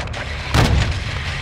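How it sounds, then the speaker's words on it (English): One heavy RPG blast in the video game Call of Duty: Modern Warfare II, a sudden loud boom that fades into a rumbling tail. "we're taking RPG fire from the east"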